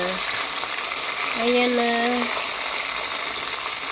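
Breaded chicken wings frying in a covered pan, a steady close sizzle and crackle of hot oil throughout, with someone speaking briefly over it.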